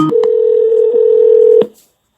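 An outgoing telephone call gives a single steady ringback or dial tone lasting over a second, framed by brief clicks, then cuts to silence.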